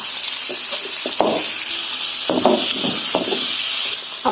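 Pieces of chayote sauté in a pan, a steady close sizzle with intermittent scraping stirs and soft knocks throughout.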